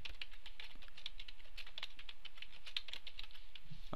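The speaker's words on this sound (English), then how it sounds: "If I can type." Rapid, steady keystrokes on a computer keyboard while entering text, a close, continuous clatter of light clicks with no talking.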